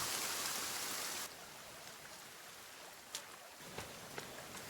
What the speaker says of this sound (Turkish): Of ne yağmur ya be.